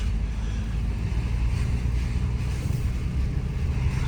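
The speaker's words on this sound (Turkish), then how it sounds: "Şöyle bayırımızı tırmalalım hatta şöyle kardan gideyim bakayım." A VW Passat climbing a snowy hill through wet snow in second gear at about 1500 rpm, with a steady low engine drone and road rumble heard from inside the car and no other sounds.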